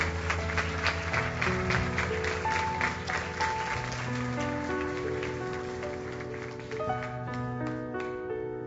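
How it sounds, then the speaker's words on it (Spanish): A church congregation applauds during a sermon, the clapping fading into sustained music with held keyboard tones underneath; the claps thin out toward the end as the music continues. "El aplauso es para Dios"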